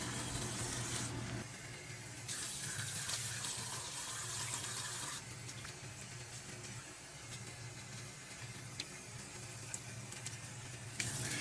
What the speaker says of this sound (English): And now we're just rinsing.